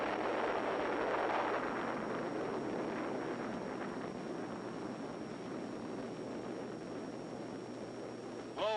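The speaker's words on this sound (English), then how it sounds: "Big bomb." A large bomb detonating at a Nevada desert atomic test site in 1951, heard as a sustained, loud, broad roar and rumble that holds steady for several seconds, with no voices over it.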